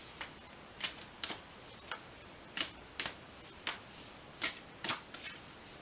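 Tarot cards being shuffled in quiet, close, crisp riffles, with a dozen or so short papery snaps coming in an uneven rhythm and no talking.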